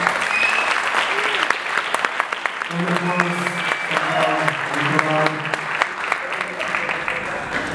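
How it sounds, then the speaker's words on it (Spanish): Audience clapping steadily at an intimate acoustic concert of original songs, a dense, continuous wash of hands with a few louder individual claps; a singer's voice and some musical tones sound over it partway through. "Quiero que le demos un fuerte aplauso a mi amigo y a mí."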